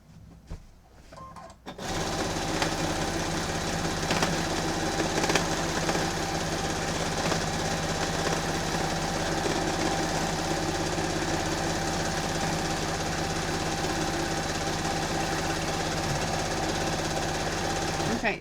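A sewing machine runs continuously during free motion quilting, a fast steady mechanical stitching rattle, loud and close, that starts after a couple of seconds of quiet and holds for the rest.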